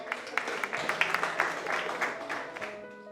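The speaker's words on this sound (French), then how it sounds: "On peut l'applaudir encore très fort." A TV talent show audience applauds a singer after her performance, a steady bed of clapping with scattered sharper claps, tapering toward the end.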